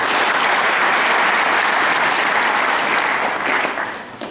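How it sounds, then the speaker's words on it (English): A large audience of students applauds at a university college welcome address for first-year students, giving sustained, dense, loud clapping for several seconds that thins and fades toward the end. "Can you clap for them?"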